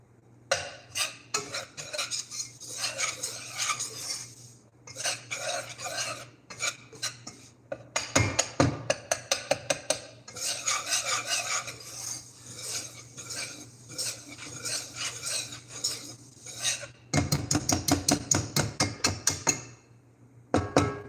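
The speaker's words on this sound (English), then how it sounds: "This whisk is getting in my way." A whisk stirring a golden roux in a pot for seafood gumbo, producing bursts of rapid metallic scraping and tapping against the pot, separated by short pauses, close and fairly quiet.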